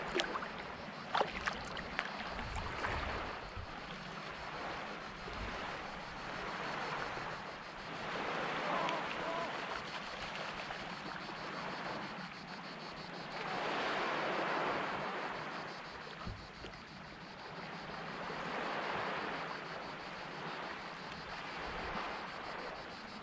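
Sea kayak paddling over gentle waves at sea, with rhythmic swishes of the paddle and steady water wash under breezy wind noise. The sound stays faint and continuous throughout.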